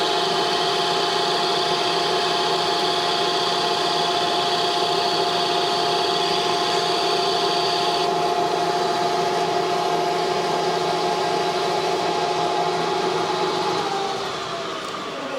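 A lathe insert made for stainless steel cuts a stainless thumb screw, giving a steady, loud machining whine with a constant tonal drone and dense hiss throughout, easing off slightly at the very end.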